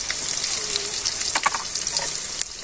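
Potatoes frying in oil with salt and turmeric give off a steady, close hiss of sizzling, broken by a few brief clinks and stirring scrapes, with nobody speaking.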